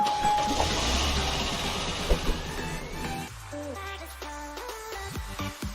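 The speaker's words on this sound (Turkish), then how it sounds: "Arabanın sesi şu oyunun başlangıç arabanın sesiyle aynı." Starter car engine in the Roblox game A Dusty Trip, a steady mid-pitched engine drone idling and revving, fairly quiet and constant, then shifting into tonal game sounds near the end, with no voices.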